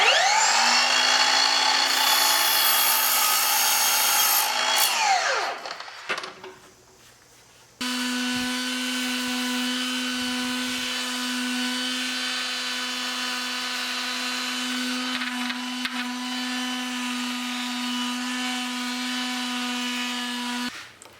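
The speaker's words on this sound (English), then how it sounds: "Here I'm adjusting the saw to get my slight angle." A power saw set at a slight angle cutting wooden dowel pegs, a loud high whining motor that winds down, then restarts and runs steadily at a lower pitch.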